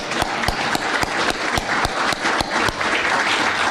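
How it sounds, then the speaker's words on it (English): Audience applause at the close of a presentation at a Federal Highway Administration conference session: a dense, steady round of clapping from a room full of people, loud and continuous for several seconds with no talk over it. "let's give them a round of applause"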